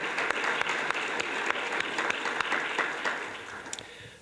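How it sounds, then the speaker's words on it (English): A round of applause from an audience at an evening library lecture, dense clapping with a few sharper individual claps standing out, steady then tapering slightly near the end, with no speech over it. "I want to give them a round of applause."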